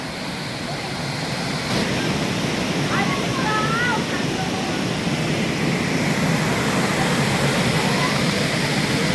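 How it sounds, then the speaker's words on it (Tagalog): Steady rushing water, like a stream or falls, fills the clip with constant broadband noise; faint voices murmur underneath. "Kaya ito ang sound ng tubig."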